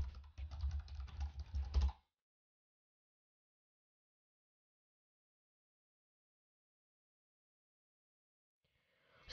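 Quick computer keyboard typing while entering a search for a WordPress plugin, a short close burst of clicking keys that stops into silence, with a faint start of more keystrokes at the very end.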